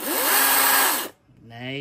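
A DeWalt DCS670B cordless chainsaw runs loud and steady for about a second, then cuts off abruptly; after a brief quiet it starts again, fainter, with a rising whine.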